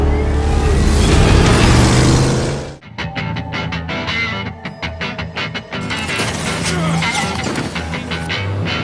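Car in a superhero movie scene roaring loudly, then after a sudden cut a vehicle rushes up amid sharp crashes and thuds, the engine rising again near the end.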